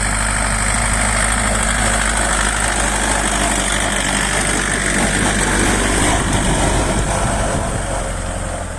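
A tractor ploughing a field, its engine a loud, steady, close drone that rumbles without a break, with mechanical vibration and no voices.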